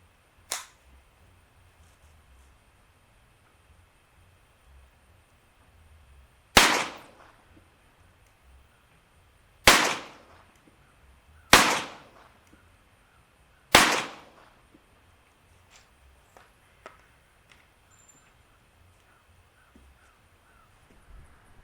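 Four sharp, loud .22 rifle shots ring out one by one into ballistics gel, spaced a few seconds apart, each a crisp crack with a short decay, against otherwise quiet surroundings.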